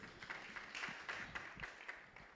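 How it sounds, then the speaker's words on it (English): A modest crowd at a campus safety launch event gives a round of applause, individual claps distinct and uneven, fairly faint and thinning toward the end. "Let's give a round of applause."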